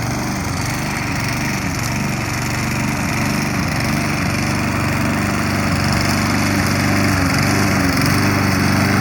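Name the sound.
mow machine cutting grass and dirt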